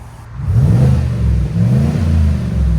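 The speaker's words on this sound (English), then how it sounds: "I'm gonna let you guys hear what it sounds like before with the flow effects dump" A car with a Flowmaster FlowFX exhaust dump revs with a loud, deep, droning exhaust tone that rises and falls steadily close by, with no talking.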